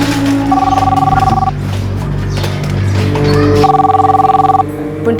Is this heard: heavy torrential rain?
no